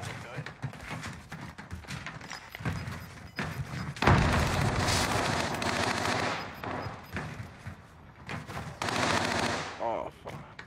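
Rapid bursts of video game gunfire and thumping impacts, loud and close, mixed with players talking in Spanish and English over the action.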